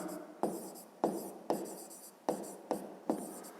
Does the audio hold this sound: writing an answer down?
yes